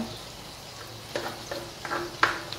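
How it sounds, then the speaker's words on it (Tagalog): Onions and garlic sauté in oil, with a soft continuous sizzle under a few scraping stirs of a utensil in the pan, close by and fairly quiet. "Ilagyan ko lang ng konti pang oil para sa pagigisa natin ng ating sibuyas, tapos bawang"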